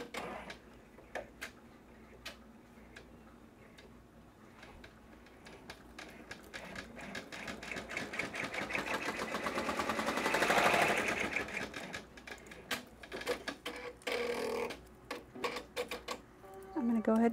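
An embroidery machine stitches an in-the-hoop Velcro square for a welcome bear sign, its steady rapid ticking running throughout under a person talking and swelling louder near the middle.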